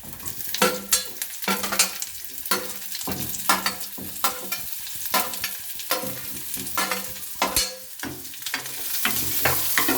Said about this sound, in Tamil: நெக்ஸ்ட்டு வந்து ஆனியன் போட்டுக்கலாம் ஃப்ரெண்ட்ஸ்.